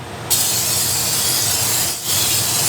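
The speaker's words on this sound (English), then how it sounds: "Get some of this brake dust off of here." Brake and clutch dust sprayed off clutch parts from a 1966 Plymouth wagon: a close, loud continuous spray hiss with one brief break near the end, no voices.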